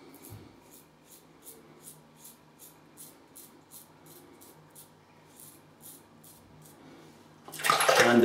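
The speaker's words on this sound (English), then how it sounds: "Gonna get a little rinse" Running water rinses a straight razor in short, repeated splashing pulses at close range, then a louder, fuller rush of water at the very end.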